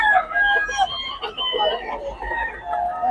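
A rooster crows at a Bicaue farm amid a busy, noisy background, with people talking nearby throughout.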